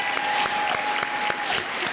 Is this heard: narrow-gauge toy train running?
no